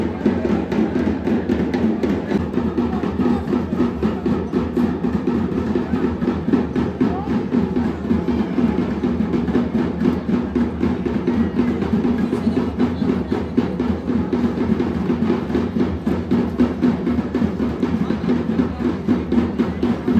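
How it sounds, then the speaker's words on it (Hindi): A loud, continuous aarti at Kashi Vishwanath Temple in Varanasi: massed chanting voices mixed with clanging bells and pounding percussion in a steady, driving rhythm. "गाइस जो आपको पीछे आवाज़ आ रही है ये अब चल रही है महाकाल जी की आरती।"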